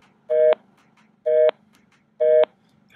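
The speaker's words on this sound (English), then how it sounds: "Kind of sounds like the busy signal on a phone" Short electronic beep bursts from a portable Bluetooth speaker repeat at an even pace, three identical tones about a second apart, like a phone's busy signal.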